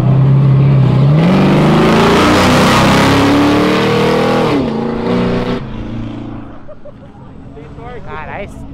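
A Renault car roars past, revving hard with a deep V8-like tone that climbs and swells loudly for several seconds, then drops away as excited voices take over.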